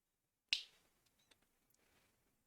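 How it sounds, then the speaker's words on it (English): A single sharp finger snap sounds close to a microphone, followed by faint small clicks and near silence. "my mic picking up me snapping my fingers?"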